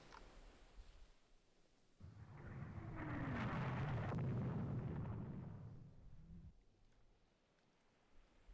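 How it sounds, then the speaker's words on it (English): Warship blowing up in the naval strategy game Rule the Waves 3, a deep rolling explosion that swells and fades over several seconds, standing alone against quiet background noise. "She exploded."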